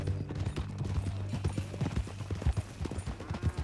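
Horse hooves clip-clopping at a steady walking rhythm in Red Dead Redemption 2, the rider's mount moving along a trail, close and clear over low ambient background with no talk.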